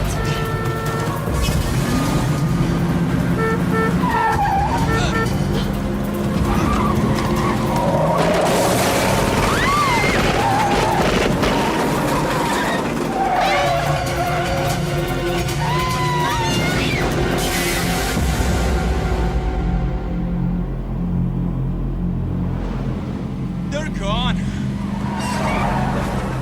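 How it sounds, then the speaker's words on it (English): Car skidding and crashing head-on into an off-ramp divider in the 1992 film Patriot Games, with gunfire from a van, roaring engines, tire screeches and impacts layered over dense action-score noise, then a sudden cut to quieter sound. "Miller shoots at Kathy's car from his van and she crashes head-on into an off-ramp divider"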